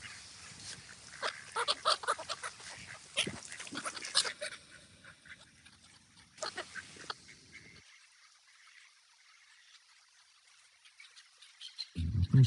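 Several ducks quack and squabble excitedly over thrown food, with busy overlapping calls close by, a short stretch of quiet, then a loud burst of noise at the end.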